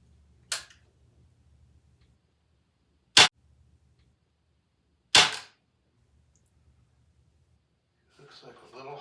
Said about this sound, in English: we're gonna go at another cold shot, I guess I'd call it, right at dead center